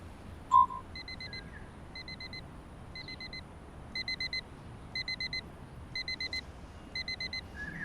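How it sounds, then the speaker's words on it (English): A household alarm beeps in short repeated bursts of quick electronic tones, grouped with steady pauses between them, over a quiet room hum with one soft knock near the start and no talking. "What is this alarm for?"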